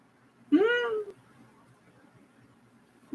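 A single drawn-out cat meow rises and falls close by in a quiet room, followed by silence and a brief start of another sound at the end.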